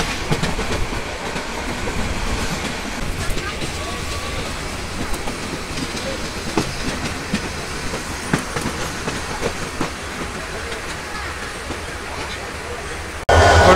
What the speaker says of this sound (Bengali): আমাদের ট্রেন এসে পৌঁছালো হচ্ছে এখন ভৈরব বাজার স্টেশন